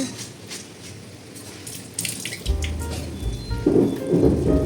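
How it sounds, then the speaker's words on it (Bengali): Rain falls steadily on surfaces with dripping, and a deep roll of thunder rumbles in partway through, with the shower growing heavier toward the end. "একটু সুন্দর বৃষ্টি হচ্ছে"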